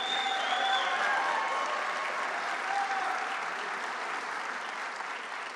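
Sustained applause from an audience at an outdoor political rally on a minimum-wage campaign stop in Kingston, steady broadband clapping of a large crowd throughout, easing slightly toward the end, with no talk over it.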